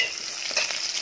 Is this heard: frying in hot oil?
yes